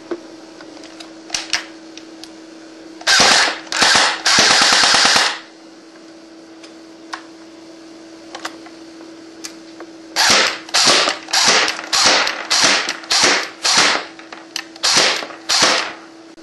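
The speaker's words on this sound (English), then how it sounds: "I will shoot it inside at a target." A Galaxy MP5k PDW airsoft gun fires indoors at a target, first in a few quick semi-auto snaps, then in several loud full-auto bursts separated by pauses, over a steady electric hum.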